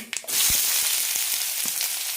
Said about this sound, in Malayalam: കടുക് പൊട്ടിക്കഴിയുമ്പോൾ സവാള ഇടാം